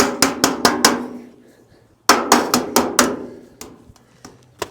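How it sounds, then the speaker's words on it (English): Sharp hammer taps drive a copper piece into place on a 1920s storybook cottage fitting, two quick runs of about five ringing strikes each, then a few scattered lighter taps, close and clear. "Now I just need to get a hammer and tap that into place."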